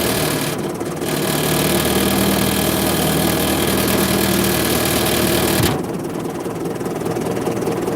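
A four-cylinder engine idles very low, each firing pulse distinct in a loud, rough, steady chugging rhythm close by, with a sudden drop in level near the end.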